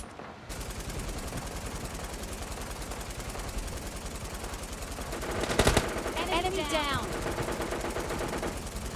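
Rapid automatic gunfire from the mobile shooter game PUBG Mobile Lite crackles loudly and continuously, with a sharper burst of shots near the middle, over a busy game soundscape.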